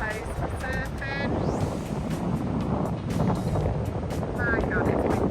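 Strong wind buffets the microphone in a steady roar at Bondi Beach on the Sydney coast, with choppy water nearby and voices talking over it.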